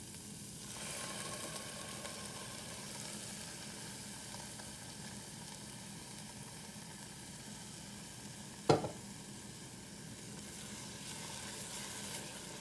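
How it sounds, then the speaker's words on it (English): Tomato puree fries in a pan for a lentil dumpling curry sauce, a quiet, steady sizzling hiss. A single sharp clink sounds about two-thirds of the way through. "Now I'm going to add the tomato puree."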